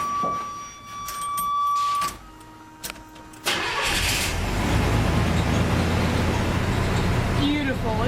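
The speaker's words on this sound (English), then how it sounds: "we can start up the car and see how it really runs" A 1987 Chevy S10 with a newly swapped flex plate cranks and starts, then settles into a loud, steady idle close by after a brief stretch of quieter clicks and a tone.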